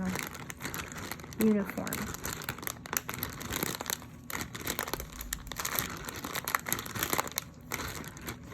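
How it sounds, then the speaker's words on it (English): A plastic bag holding strawberry mixture is gently squished and mixed, producing soft, steady crinkling and crumpling close by, with a person talking over it. "you're just going to kind of mix it gently in this bag"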